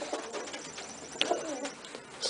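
A blue grizzle piebald pigeon hen gives soft, low cooing calls close by, with a couple of brief fluttery sounds in a quiet outdoor setting.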